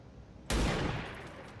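A single sniper rifle shot in the video game XCOM 2, a sudden loud blast after a brief quiet moment, followed by a long reverberant tail that slowly fades.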